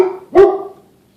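A dog named Bison gives one sharp, loud bark up close, which fades out quickly, with a lingering tone before it.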